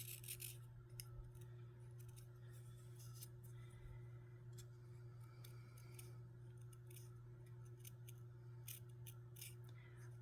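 Scissors cut through paper in a steady run of crisp snips and rasping slices, heard close up over a constant low electrical hum.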